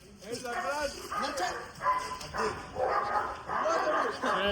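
Several dogs, including a Siberian husky, bark and yip in quick overlapping bursts inside a dog kennel, close and fairly loud, with people talking among them.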